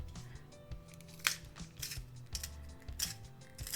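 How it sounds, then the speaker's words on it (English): An eyebrow pencil being twisted in a small handheld sharpener, giving quiet, close, scratchy grinding scrapes in short repeated bursts. "so I'll go in with my sharpener"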